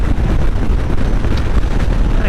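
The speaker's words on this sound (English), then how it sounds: "but this is downright windy" Loud, blustery wind buffets the microphone in constant low rumbling gusts during a ride on a Harley-Davidson Street Bob 114 motorcycle, overwhelming the recording.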